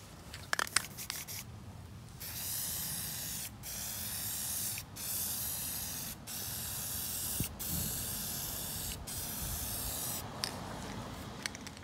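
Plasti Dip sprayed in a heavier second coat onto a Chevy Camaro, a series of long steady aerosol hisses separated by brief pauses, close and even, preceded by a few clicks.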